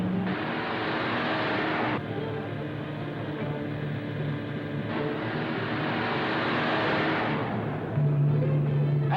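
A car engine hums steadily at a moderate distance, with a brief low tone near the end and no voices.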